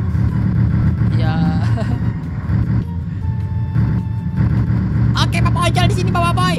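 A new motorcycle engine revving in an animated Upin & Ipin and BoBoiBoy scene: a steady low engine drone runs throughout, and children's voices chatter over it toward the end.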